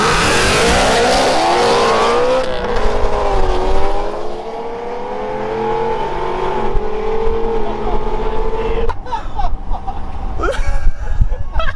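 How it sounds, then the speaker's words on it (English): A 900-horsepower Revenge GT carbon-fiber supercar revs hard, its exhaust rising and falling in loud repeated blips close by, then settling into a rumbling idle with a final sharp rev near the end. "Not crazy, just a good exhaust note, you know, for the fans."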